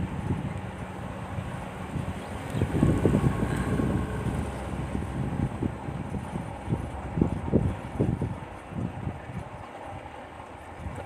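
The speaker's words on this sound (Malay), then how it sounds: "Kuat angin." Strong seaside wind at Kuala Besut buffets the microphone in continuous rumbling gusts that swell and fade for about eleven seconds, with no voices.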